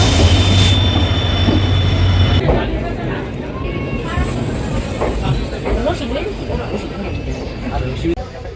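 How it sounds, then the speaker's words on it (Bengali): A passenger train leaving a station in India, a loud continuous rumble of rolling wheels and clanking carriages with a brief high squeal and hiss early on, heard up close while a person talks over it. "আমাদের ট্রেন ছেড়ে দিয়েছে।"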